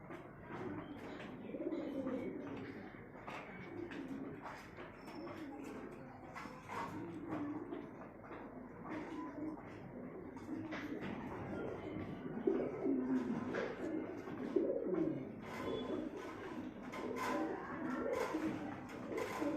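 Pigeons at a small pigeon farm coo softly and continuously, their low throaty murmurs overlapping throughout against a quiet, steady background.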